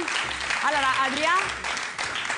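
Studio audience on an Italian TV game show applauding a contestant, broad clapping beneath a host speaking over it.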